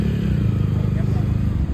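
Off-road motorcycle engine idling and running steadily up close during off-road riding training, a continuous low putter that briefly rises into a light rev.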